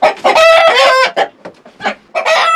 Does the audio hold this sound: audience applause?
no